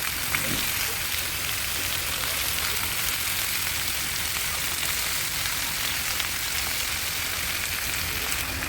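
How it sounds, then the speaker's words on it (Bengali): Mixed vegetables frying in a pan with green chilli and ginger make a steady, even hiss, close and unbroken throughout, with no voices over it. "এখন সবজিটা দিয়ে দিচ্ছি।"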